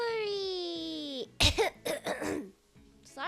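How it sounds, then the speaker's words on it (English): A few close, sharp coughs and throat-clearing bursts in quick succession, following a sustained, sliding vocal tone. "Sorry, I still have a cough."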